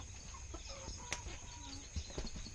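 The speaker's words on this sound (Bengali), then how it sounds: "এই যে একটি বড় মোরগ।" Chickens on a farm at night give a few short, soft clucks over a faint steady background hum, with brief scattered calls close by.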